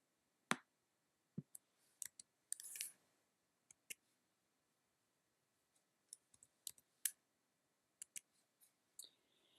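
A computer mouse clicks while adjusting curves in an image editor, producing sharp, quiet, isolated clicks spaced irregularly over near silence, including a few quick double clicks.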